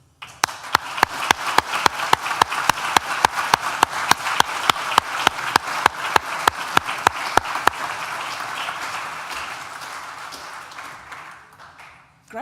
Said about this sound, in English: Graduands, please join me in a round of applause to thank all of those